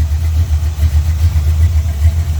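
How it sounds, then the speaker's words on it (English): A 1972 Oldsmobile Cutlass with a freshly re-ringed engine and a fan shroud idles close by. Its loud, steady low rumble holds an even, slightly lumpy rhythm throughout. "But she's a good running old motor."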